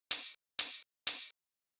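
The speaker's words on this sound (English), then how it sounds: "the next thing I have in this percussion group is this open hi-hat" A gritty sampled open hi-hat hits three times in an even rhythm, each a bright, hissy burst lasting about a quarter second and cutting off sharply, with clean silence between hits.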